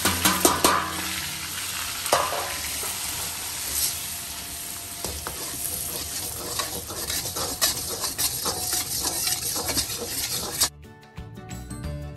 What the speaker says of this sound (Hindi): ये घी डाल के मैं इसमें डाल रही हूँ सारा बेसन